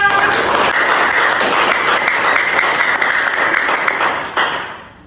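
A seventh-grade classroom breaks into dense, sustained clapping from many pupils close by, holding steady for about four seconds before thinning out and fading at the end.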